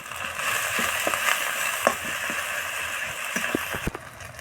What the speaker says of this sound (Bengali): এখন দিয়ে দেবো আদা রসুন বাটা